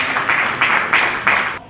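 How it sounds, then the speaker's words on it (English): Audience at a launch event claps in short bursts, moderately loud and a little distant, with the clapping rising and falling several times over a couple of seconds. "A round of applause for her."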